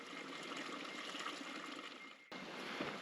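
A small mountain stream in Rocky Mountain National Park trickles and gurgles as a bottle for a water straw is filled, faint and close, a soft continuous burble with a short break partway through.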